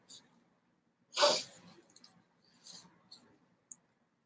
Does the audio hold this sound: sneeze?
yes